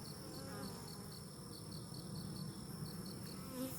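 Honey bees buzzing steadily during a hive inspection of a healthy colony, a continuous close droning hum with a faint repeating high tone running throughout.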